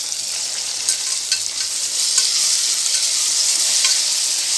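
Onion, tomato and coriander leaves sauté in hot oil for mutton masala, a loud, dense, continuous sizzle that swells slightly midway, with faint stirring clicks and no talking.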